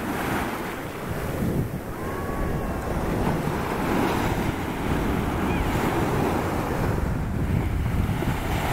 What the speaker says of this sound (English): I'll get the last few waves lapping at my feet.